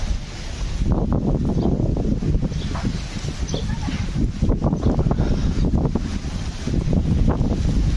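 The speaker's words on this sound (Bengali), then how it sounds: "কি ঝড় বাতাস চলে আসলো হঠাৎ।" A sudden windstorm blows outdoors in a farming village, with gusty wind roaring and buffeting the microphone for the whole stretch.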